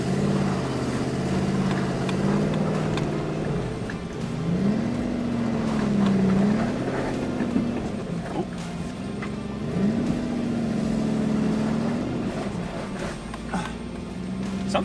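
A car with a swapped V8 engine and a standalone ECU driving, its engine droning close and loud, revving up and easing off in repeated surges over a steady rumble.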